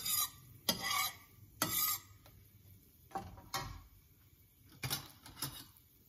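Fenugreek seeds frying in oil while being stirred, with a few loud scraping stirs and soft crackling, sizzle in between, the bursts spaced irregularly; part of making a black chilli powder for idli and dosa.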